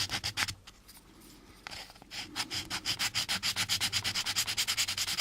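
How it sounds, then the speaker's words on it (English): Sandpaper rubs a burr off metal, a few strokes, a pause, then a steady run of quick, even back-and-forth scrapes, close up and fairly quiet. "I'll just use the sandpaper here to get rid of this burr"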